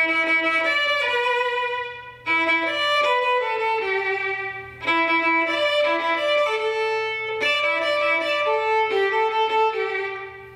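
A solo violin plays a repeating hip-hop song hook, with clear sustained notes and some lower double-stops, loud over a faint steady hum.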